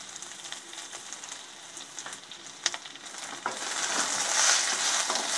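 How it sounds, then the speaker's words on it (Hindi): Onion and capsicum frying in a pan for chilli paneer, a steady close sizzle with light stirring scrapes that grows louder toward the end, no voices. "2 से 3 मिनट इसको हम फ्राई करेंगे"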